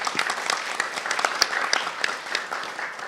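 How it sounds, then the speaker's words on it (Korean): Applause from a talk concert audience honoring a retired research institute leader, steady dense clapping filling the room at moderate level with no voices over it. "큰 박수 한번 부탁드립니다"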